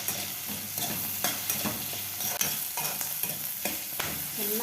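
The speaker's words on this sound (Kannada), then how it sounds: "ಚೆನ್ನಾಗಿ ಕೆಂಪಿಗೆ ಈ ಥರ ಹುರ್ಕೊಂಡ್ಬಿಡ್ಬೇಕು." Capsicum pieces fry in hot oil for a curry, stirred now and then over medium heat as they brown. A steady close sizzle runs throughout, broken by regular scrapes and knocks of the spoon against the pan.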